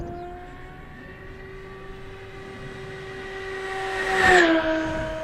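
A 55-inch BuddyRC OMP Super Decathalon RC airplane makes a fast, close pass, its steady propeller and engine drone rising in pitch and swelling loud as it sweeps by, then fading slightly as it moves away.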